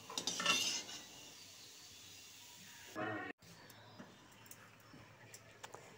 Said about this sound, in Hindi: इसी तरह मैं सारे गुलाब जामुन को छान लेती हूँ